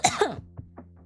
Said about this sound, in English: I hate coughing on stream.